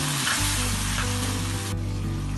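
Chicken stirred with mayonnaise and shawarma paste in a hot pan, a steady close sizzle and fry with soft scraping from the mixing, and no voices.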